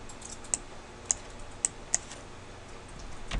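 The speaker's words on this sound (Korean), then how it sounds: "더블 클릭" Four sharp, isolated computer mouse clicks spaced irregularly over a few seconds during pattern drafting in software, crisp and close against a quiet room, with no talking.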